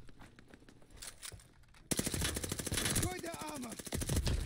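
Rapid automatic gunfire from a gun in Call of Duty: Vanguard multiplayer, a dense, loud burst of evenly spaced shots after quieter scattered shots, with a voice speaking briefly over it.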